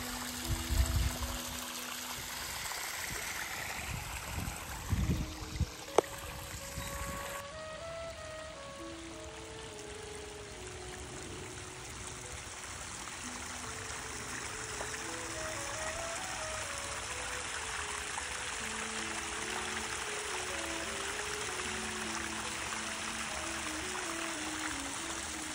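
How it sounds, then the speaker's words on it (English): A small stream runs through a canyon beside a little waterfall, a continuous faint trickle and babble of water with a few brief louder knocks early on and no talking. "Stream of water."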